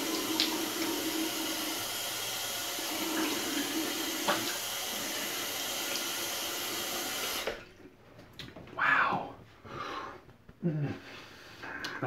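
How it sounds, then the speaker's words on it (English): Water runs steadily from a tap for about seven seconds as someone rinses off, then cuts out, leaving a few soft splashes and movements close by. "All right, I gotta rinse this off."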